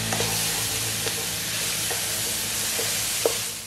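Vegetables sautéing for Cuban arroz con pollo, a steady sizzle and hiss with the spoon or spatula scraping the pan bottom now and then, close and continuous with no talking.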